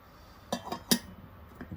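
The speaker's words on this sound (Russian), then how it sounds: "Так вот закрывается крышка." A silver Kubachi teapot lid being closed, giving three or four light metallic clinks and taps in quick succession, close and fairly quiet, with no talk.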